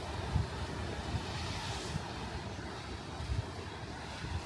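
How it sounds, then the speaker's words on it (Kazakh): Sea water washes and ripples along a shore in Turkey, heard as a steady, fairly soft rush of surf mixed with wind buffeting the microphone, with no talking. "Судың дауысы сыңғырлап ағып жатыр."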